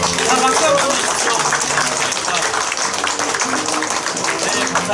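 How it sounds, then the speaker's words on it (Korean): Steady, dense applause from a crowd at a Democratic Party member event, loud and continuous throughout with no breaks. "자, 박수 한번 주십시오."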